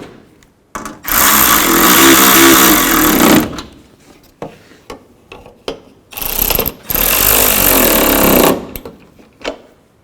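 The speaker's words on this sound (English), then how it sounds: "and snug down the bolts" A power tool snugs down the bolts on a 2003-08 Toyota Matrix headlight assembly, with two long, loud, steady whirring bursts separated by scattered clicks and handling noises.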